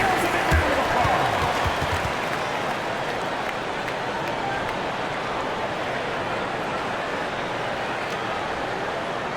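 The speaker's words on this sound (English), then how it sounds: "Give yourselves a big round of applause." Arena crowd noise in the NBA 2K25 video game, Los Angeles Lakers at Sacramento, forms a dense, steady roar of applause and cheering throughout, with an announcer's voice over it.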